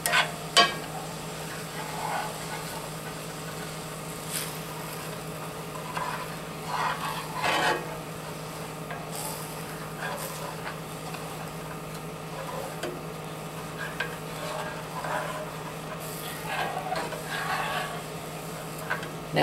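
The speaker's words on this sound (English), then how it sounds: "I'm going to deglaze the pan" Orange sauce sizzles and bubbles in a hot pan as it is deglazed over high heat, a steady soft frying hiss with scattered scraping and stirring clicks.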